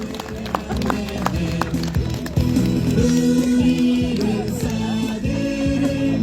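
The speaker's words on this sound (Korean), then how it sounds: "큰 박수로 모시겠습니다." Applause from a crowd at an outdoor candlelight rally against the THAAD deployment in Gimcheon welcomes a village head to speak. Steady clapping mixes with tonal background sound and some crowd voices.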